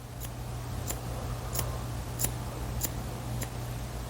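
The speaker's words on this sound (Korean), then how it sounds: "변형 가위질을 이용해서 잘라볼 겁니다" Barber scissors point-cutting hair on a short haircut, a series of sharp, crisp snips spaced about every half second, close and fairly quiet over a low steady hum.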